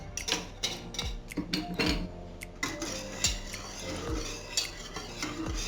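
A spoon stirs crème anglaise in figure-eight strokes for floating islands, scraping and clinking against the pan in an uneven, repeated rhythm, close and fairly quiet, with no talking.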